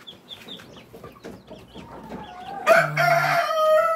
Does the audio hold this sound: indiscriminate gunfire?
no